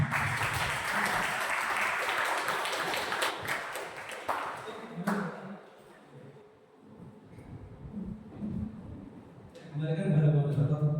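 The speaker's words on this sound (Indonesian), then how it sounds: "silakan tepuk tangan untuk Kak Evan" An audience at a public speaking event applauds for a speaker, a broad wash of clapping that builds at the start and fades after about five seconds. Talk and murmuring follow, and a voice then comes in near the end.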